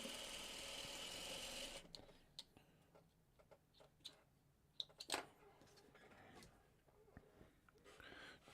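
A sewing machine stitches small 2-inch half square triangles for a quilt, running steadily for about two seconds before giving way to scattered light clicks and ticks as the fabric is handled.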